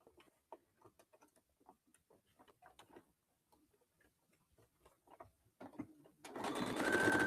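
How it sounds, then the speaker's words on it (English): A sewing machine stitches fabric pieces of a zipper pencil pouch. Soft, scattered ticks and handling clicks come first, then the machine starts up near the end with a loud, steady whirring run. "we're going to sew that flat"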